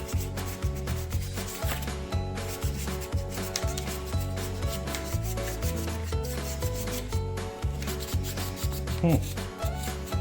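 Residue being peeled and scraped off the molding of a 2018 Toyota Sequoia, heard as close, continuous rubbing and rasping strokes under a steady bed of music, with no talk.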